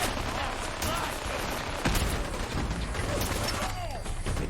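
Rapid, mechanical gunfire from combat in the Fallout 4 Nuka World video game, a steady busy clatter of shots and weapon noise with no pause over a few seconds.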